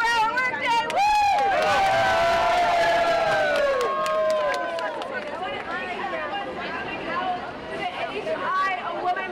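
A bustling crowd cheers and whoops loudly at a rally to end 24-hour workdays, with shouts and excited chatter filling the space continuously throughout.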